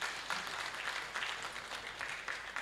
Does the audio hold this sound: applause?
yes